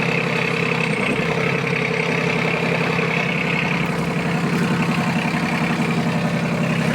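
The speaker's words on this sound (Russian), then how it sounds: "Такой вот мини-трактор Инмат Е155 в городе Иркутске" A Yanmar F155 Japanese mini tractor of 15 horsepower, fitted with a rotary tiller, idles with a steady, even diesel chug and a constant whine above it, close and continuous with no voices.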